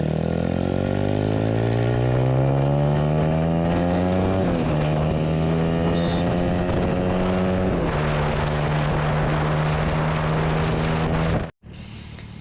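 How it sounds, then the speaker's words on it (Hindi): A motorbike climbs a bumpy mountain road on the way from Mingora to Kalam in Swat, its engine droning loudly and steadily, rising in pitch as it revs and shifting through gears, then briefly cutting out near the end. "बाइक पूरी ऊपर नीचे उछल रही है"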